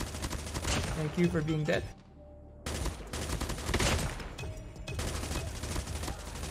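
Rapid bursts of gunfire from a Gold Chopper machine gun in Call of Duty Mobile, several loud clustered volleys separated by a short pause, with a player talking over the shots.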